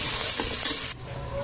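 Native chicken sizzles and hisses loudly in a hot pan while being stirred and sautéed, the frying cutting off abruptly partway, leaving a quieter background.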